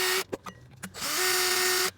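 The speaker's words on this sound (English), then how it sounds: "I got a 7/64 drill bit. Can go right through that plastic inside there." A 7/64 drill bit bores through plastic on a deck railing: a couple of short power-drill bursts, then a steady close whine for about a second before it stops.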